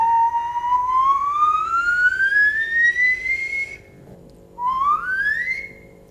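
Someone whistles a long, slowly rising tone, pauses briefly, then whistles a second shorter rising note, clear and close.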